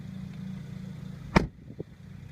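A 2014 Mercedes-Benz ML350 door shuts with a single solid, deep thud, followed by a softer secondary knock, heard against a low outdoor rumble from a lawn mower nearby.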